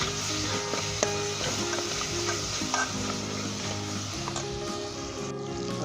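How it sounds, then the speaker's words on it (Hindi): Tender pre-cooked mutton fries in a hot pan with a steady, close sizzle, broken by repeated scraping and stirring strokes of a spoon throughout. "और 2 से 3 मिनट हम इसे अच्छे तरीके से भूनेंगे"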